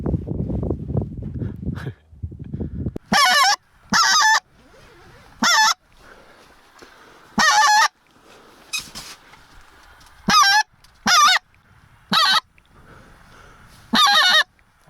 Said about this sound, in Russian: Гуси должны прийти оттуда.